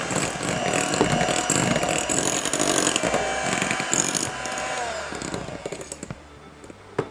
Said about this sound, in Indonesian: Ini kita mixer lagi sampai tercampur rata dengan speed yang paling rendah.